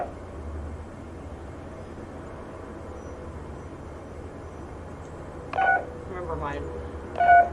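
Telephone keypad tones dialing a number in a video game, a few short separated beeps over a low steady hum, with the loudest tone near the end.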